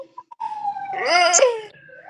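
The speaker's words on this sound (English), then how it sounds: "it sound like the ambulance" An emergency vehicle siren, police or ambulance, wails outside, its rising and falling tone swelling fairly loud for about two seconds before fading.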